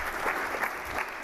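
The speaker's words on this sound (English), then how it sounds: "So we can clap up to that." An audience at a school spring sports awards ceremony claps in a brief, fairly faint patter with a few louder claps standing out.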